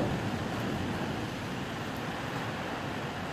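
Strong typhoon wind from Typhoon Molave just before landfall, a steady loud broadband roar with no let-up, heard from indoors.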